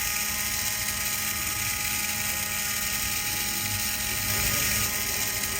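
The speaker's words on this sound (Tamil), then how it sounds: "வேக்யூம் கிளீனர் கூட ஓரளவுக்கு தண்ணியெல்லாம் இழுக்குதுப்பா" A vacuum cleaner sucking up water from a floor, running as a loud, steady motor whine with hiss that holds unchanged throughout.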